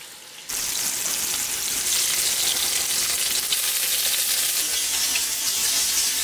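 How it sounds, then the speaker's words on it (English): Lamb chops hitting a hot skillet, a loud hiss bursting in after a brief quiet moment and settling into a strong, steady searing sizzle with light crackle, nobody talking. "Once your skillet's nice and hot, go ahead and add your chops."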